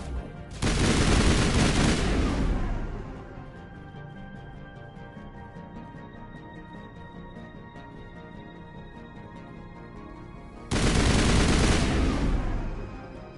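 Two long bursts of rapid automatic gunfire from the video game Mass Effect Legendary Edition, loud and dense, separated by a stretch of quieter in-game ambience.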